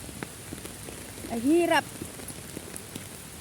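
Heavy rain pouring steadily on surfaces, a constant close patter of drops throughout, with a brief spoken exclamation in the middle.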